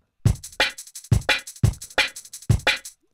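Original beer can fizz sample, repeated bursts of hiss with a low thump at each onset, in a steady paired rhythm, close and clear with no voice.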